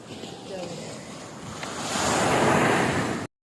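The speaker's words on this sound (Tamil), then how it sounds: "இப்போ ஒரு பெரிய ஒரு அலை வருது" Sea waves roll and crash on a beach at a temple bathing shore, a steady roar of surf with wind noise that swells louder as a big wave breaks, then cuts off.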